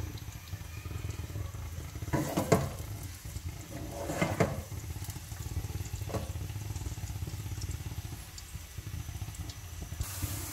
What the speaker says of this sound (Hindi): प्याज बस इतना ही सौते करना है, बहुत ज़्यादा नहीं करना